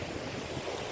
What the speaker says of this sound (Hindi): लहरों की भी एक आवाज़ है, लहरों की भी एक चाल है।